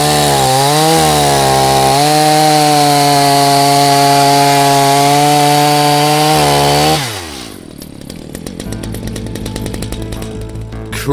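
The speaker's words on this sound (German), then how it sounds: "schmeiß die Kettensäge an" A chainsaw starts and revs loudly with a rising and falling engine whine for several seconds, then bites into wood with a rough, gritty cutting roar.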